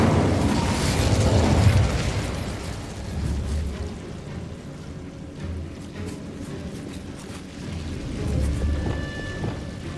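A fire spell cast in Hogwarts Legacy gives a low rumbling burst with a crackling wash, then a softer sustained roar and another swell near the end. No one speaks.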